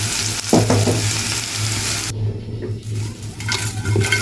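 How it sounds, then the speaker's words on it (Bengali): Dried chillies fry in hot oil in a pan, giving a loud, steady sizzle with a brief clatter of stirring partway through and a short quieter dip before the sizzling swells again. "এই ঝালগুলো এত পরিমাণের ঝাল, তো অনেকগুলো একসাথে ভেজে নিচ্ছি"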